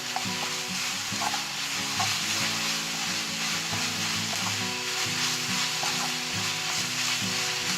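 Onions sizzle steadily in a hot pan while a spoon stirs and scrapes now and then, close up, with no talking.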